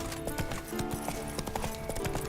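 Horse hooves clip-clop in quick, steady rhythm in the video game Witcher 3, the trotting close and clear with no talk over it.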